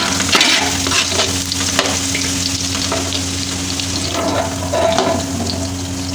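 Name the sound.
onions frying in pot for Kabuli pulao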